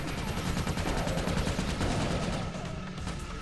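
Rapid gunfire in the Ratchet Deadlocked video game, a dense, continuous machine-gun-like stream of shots heard steadily throughout.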